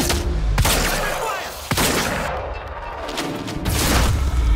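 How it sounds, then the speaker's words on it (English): Shotgun blasts in Quantum Break, several loud, booming reports spaced roughly a second apart amid dense, continuous battle noise. "This guy's gonna take it deep with the shotgun."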